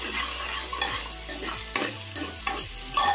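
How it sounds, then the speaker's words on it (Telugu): Onions fry in oil with a little salt until brown for mutton curry. A constant sizzle sits under repeated spoon scrapes and knocks against the pan every half second or so. "బ్రౌన్ కలర్ వచ్చే వరకు వేయించుకుంది."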